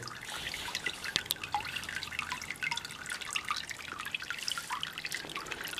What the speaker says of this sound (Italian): aspettiamo un attimo che finisce di sgocciolare quella verticale